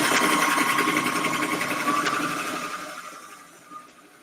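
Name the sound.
serger overlocker sewing machine stitching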